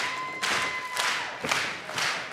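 Wrestling crowd at an NWA 74 event cheering and clapping, a steady roar of applause with rhythmic swells of claps and cheers about every half second, carrying loud and continuous from start to finish.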